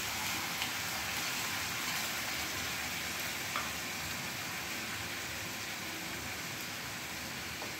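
Lote (Bombay duck) fish frying in hot oil with onion and garlic, a steady dense sizzle that holds evenly close by throughout, with no talk.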